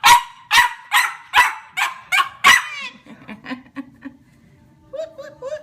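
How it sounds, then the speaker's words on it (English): Baby bulldog puppy barking in a quick series of six or seven sharp, high yaps, close and loud, followed by softer chirping and squeaky sounds near the end. "Is our little boy barking?"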